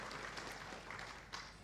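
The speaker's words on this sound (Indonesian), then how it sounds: "tepuk tangan dulu untuk telah menyelenggarakan acara ini" Applause for the organizing committee at a university faculty graduation ceremony (yudisium) in a hall, a steady wash of clapping from the crowd lasting the whole moment, fairly even with a slight swell near the end.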